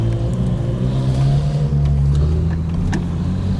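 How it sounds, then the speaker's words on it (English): A Mark 1 Mazda MX-5 rolls over speed bumps at a leisure centre entrance, its engine giving a deep, steady drone that swells slightly mid-way, close and loud throughout with no talk. "Why does that MX-5 sound like it's got a Cummins diesel engine in it?"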